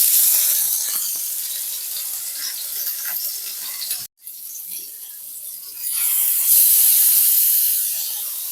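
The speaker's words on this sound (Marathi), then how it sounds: "तेल असं छान गरम झालंय तर आता आपण हे तेलामध्ये सोडूयात" Eggplant pieces dropped into hot oil sizzle with a loud, steady hiss that briefly cuts out, then swells again brighter and stronger as more pieces go in.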